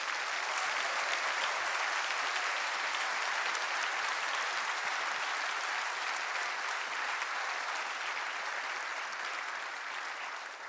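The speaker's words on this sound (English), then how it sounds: "If I can ask for a big round of applause." Sustained audience applause at a tech summit in Poland, a dense wash of many hands clapping steadily for about eleven seconds and tapering slightly at the end.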